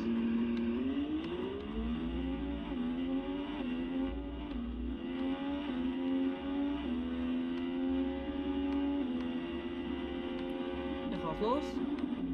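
Car in an Xbox One racing game revving hard, its engine tone climbing and dropping through repeated gear shifts in a sustained whine, ending in a short screech.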